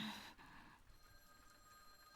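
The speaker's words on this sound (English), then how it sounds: "A faint but shrill sound lingered in her ears. Oh, it's the phone ringing." A telephone rings faintly within a video game scene, a thin, shrill ring lingering at low level through the whole moment with a brief louder burst at the end.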